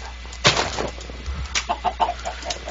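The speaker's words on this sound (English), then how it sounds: "Chicken!" A Minecraft chicken clucks in a short run of soft, evenly spaced notes after a brief flutter, set against a steady low hum.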